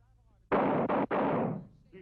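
Small arms gunfire at a training range: three loud, close shots fired in quick succession, the last trailing off, with a faint voice just after.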